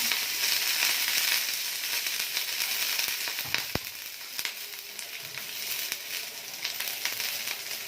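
Ginger, garlic and green chillies sizzle loudly in hot oil in a pan, with a dense, continuous hiss broken by sharp crackles and pops and a few stirring clicks. No one speaks.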